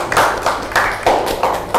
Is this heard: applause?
yes